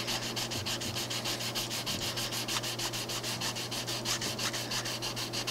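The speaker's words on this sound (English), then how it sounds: "what I'm using here is 320 gold on a block" A sanding block wrapped in 320-grit paper is rubbed by hand over a mid-century modern wooden coffee table's finish, a close, steady rhythm of quick back-and-forth scratchy strokes with no other sound.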